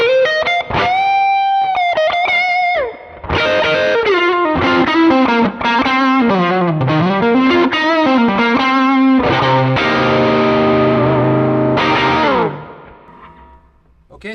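Electric guitar through a Cornerstone Gladio double preamp pedal, with a compressor also on, playing a fluid overdriven lead line with bends and a chordal ending that fades out, loud and close, no talking.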